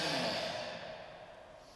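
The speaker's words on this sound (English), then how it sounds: "Deep breathing." A single deep exhale during a group karate kata session, close and breathy, fading out over under two seconds with no talk.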